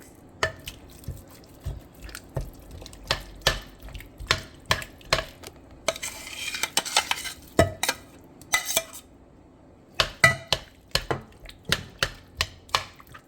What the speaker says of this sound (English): I want to make sure it's good and stirred up